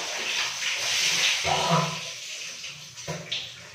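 Water splashing and running while a person bathes at home, a steady broad wash of noise with louder bursts of pouring, with brief bits of talk underneath.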